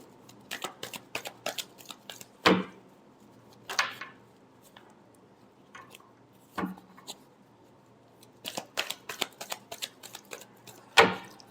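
Tarot cards shuffled by hand, a series of quick crisp riffling bursts with a few louder snaps, close and fairly quiet, separated by short pauses.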